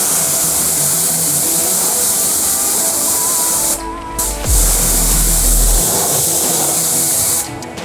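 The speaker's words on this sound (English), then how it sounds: "I'm just gonna grab my torque snubby here, which is attached to our ProFlow pressure washer, and I'm just gonna blast the wheel real quick" Loud, continuous hissing blast of a ProFlow pressure washer with a nozzle attachment spraying a car wheel, a steady roaring spray that briefly shifts in tone as the stream hits different surfaces.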